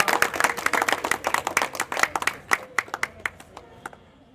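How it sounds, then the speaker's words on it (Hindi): Audience at an Independence Day event at a coaching class claps to welcome a speaker, brisk rhythmic hand claps close by that thin out into a few last separate claps. "प्लीज जोरदार तालियों से स्वागत कीजिए"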